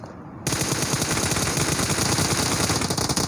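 Sustained automatic gunfire in the shooter game PUBG Mobile, a loud rapid burst of shots that begins abruptly after a short quiet moment and continues steadily to the end.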